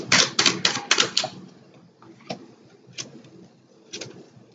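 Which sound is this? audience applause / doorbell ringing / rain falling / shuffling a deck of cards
shuffling a deck of cards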